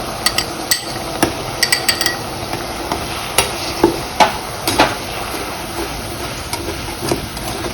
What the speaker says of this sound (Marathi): आता आपण त्याच्यामध्ये कांद्याची पेस्ट टाकायची.